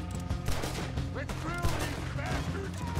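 Revolvers fire during a tram escape in Red Dead Redemption 2, the shots cracking over dense, continuous game music and ambience.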